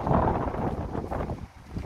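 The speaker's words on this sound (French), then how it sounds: "il y a un peu de vent" Wind gusts across the microphone at an outdoor summer fashion show, a loud buffeting low roar that swells and dips unevenly, briefly dropping away before picking up again.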